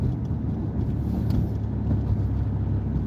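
Low, steady rumble of a big-block original Chevrolet Impala under acceleration, heard from inside the cabin as a continuous deep engine drone.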